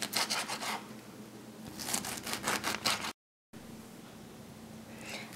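A knife saws through a pineapple in repeated rasping, rubbing strokes, close and fairly quiet, cutting it into pieces in short bursts with a brief gap between them.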